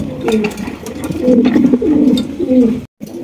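Soft, repeated cooing of pigeons on a breeding farm, several birds murmuring close by with a steady rolling rhythm, while a person talks over them.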